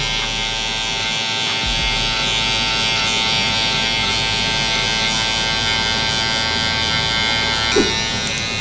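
Electric hair clippers buzz steadily and loudly through a barber's line-up trim, a continuous close-up motor hum with a small click near the end and no talk over it.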